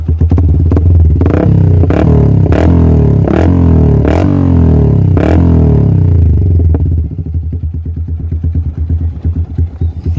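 Yamaha Vixion Advance motorcycle with an Akrapovic exhaust, loud and close, blipped in a series of sharp revs with a deep, bassy tone, then settling into a rapid, rumbling idle.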